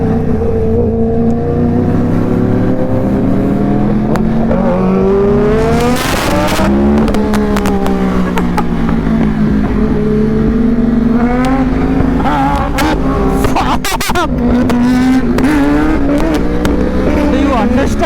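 A Kawasaki Ninja H2 motorcycle engine roars loudly up close, revving and accelerating through rising pitch sweeps, with gear changes and the climb repeating, while voices talk faintly underneath.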